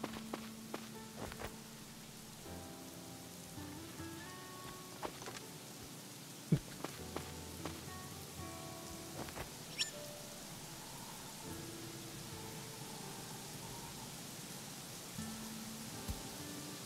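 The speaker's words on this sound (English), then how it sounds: "Whoa, it's raining." Rain falls as a faint, steady hiss with scattered drop-like ticks over a soft tonal background, no voices.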